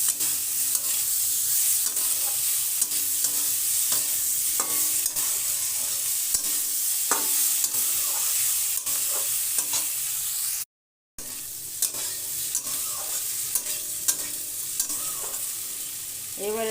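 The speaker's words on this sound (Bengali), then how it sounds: "এইভাবে 2 মিনিট নেড়ে নেব।" Nol pickle is stirred in a hot pan, giving a loud, continuous sizzle with repeated spatula scrapes and taps, briefly cut off near the end before the frying resumes.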